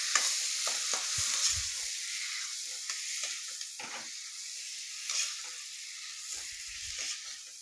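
Masala being stir-fried with cream in a pan for paneer, a soft continuous sizzle with frequent scraping strokes of a spatula, fairly quiet and close, with no talking.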